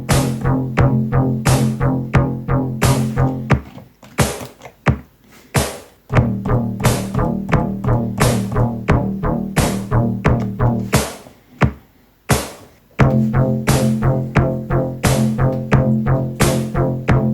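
An 8-beat synthwave drum groove programmed on a Korg Volca drum machine, steady punchy kicks and snappy hits repeating in a tight loop, with a couple of brief drop-outs where the pattern pauses before returning, loud and alone.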